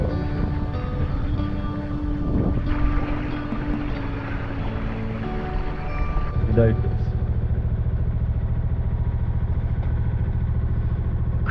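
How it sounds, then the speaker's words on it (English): A boat's engine motors steadily out of a Scottish anchorage, a continuous low drone with wind noise and a voice speaking over it. "I'm just going to motor out of here"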